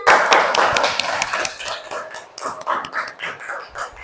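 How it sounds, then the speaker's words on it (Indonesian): A classroom of students applauds during a primary school thematic lesson. A dense burst of clapping opens the clip, then thins into scattered, rhythmic hand claps that fade toward the end. "Mas Fahri silakan duduk kembali, beri tepuk tangan."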